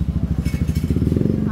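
A Kawasaki Z1 big bike's engine putters in a steady, rapid low thumping rhythm close by, a loud idle that stays even throughout.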